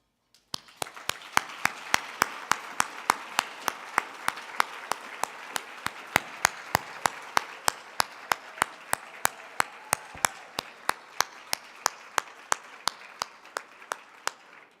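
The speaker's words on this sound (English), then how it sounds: "Please join me in a round of applause as we thank them for their vision, their generosity," A single person claps slowly and steadily, about three claps per second, close and distinct, over a faint wash of scattered clapping from an audience at an awards tribute event.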